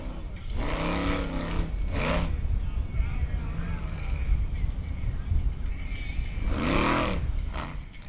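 A Formula Offroad race car engine roars at a steady, loud drone as it guns up the final hill climb at an Icelandic off-road event in Hella, with rising engine pitch and a commentator talking over it.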